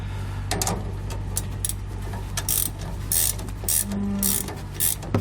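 Wrench ratcheting as end links are tightened on a Roadmaster Reflex steering stabilizer for a 2018 Jayco Greyhawk, several short bursts of clicking close by over a steady low hum, no talking.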